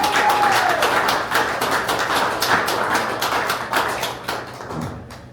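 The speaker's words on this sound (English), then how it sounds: "let's give another round of applause for Vienna" A keynote audience applauds a local businesswoman, dense clapping from many hands that continues steadily and fades slightly near the end.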